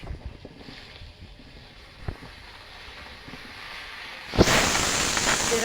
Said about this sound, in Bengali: এই তেলের মধ্যে দিয়ে দেব আলু কেটে রাখা আলু